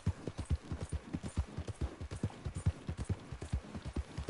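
Horse hooves in a video game, a rapid, even clip-clop of repeated close hoofbeats sounding loud and alone for several seconds.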